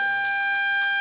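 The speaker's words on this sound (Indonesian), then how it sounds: "dengan ditekannya sirine ini" Siren pressed to close a student ambassador event in Aceh, a loud steady electronic wail with sustained pitched tones filling the whole moment, no voices.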